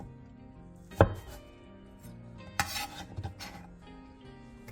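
A knife slices Korean fish cake into thin strips on a board, with a few sharp cuts, one near the start and a cluster later, over a quiet background.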